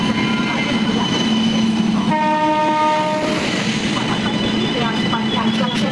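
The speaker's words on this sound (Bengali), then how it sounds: "এখন ট্রেন আসছে" A train pulls into a station on the Serampore to Parashnath route, its horn sounding in a loud sustained blast over the constant rumble and clatter of the wagons nearby.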